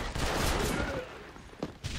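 A dense burst of gunfire in Red Dead Redemption crackles rapidly through a noisy, busy mix, with a few sharper shots near the end.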